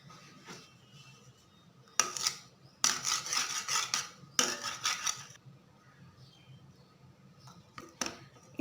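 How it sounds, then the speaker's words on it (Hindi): A metal spoon clinks and scrapes against a bowl while stirring a coconut oil mixture for an overnight skin-whitening remedy, coming in several short bursts of clatter with quiet pauses between, close by and with no talking. "ऐसे ही हम चम्मच हिलाते रहेंगे ताकि ये चीज़ें आपस में यकजा हो जाएं।"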